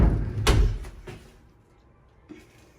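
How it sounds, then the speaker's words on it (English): Sliding pocket door to a hotel bathroom rolls and thuds shut, one loud close early on, followed by a couple of softer knocks and a faint later bump, heard close with no talk. "I really love these like pocket doors here."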